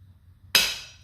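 A single sharp metal strike of a hammer stamping a design into a sterling silver charm, loud and close, ringing briefly before fading.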